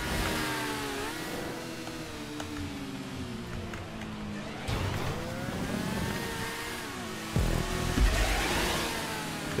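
Racing motorcycle engines from GTA 5 Online hold a steady, loud mid-pitched whine with shifting revs, bikes jostling close together, and a sharper rise in intensity near the end; no voices are heard.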